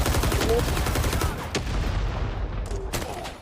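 Rising Storm 2: Vietnam firefight with rapid close automatic bursts at first, easing into sparser single cracks and distant shots as the noise fades.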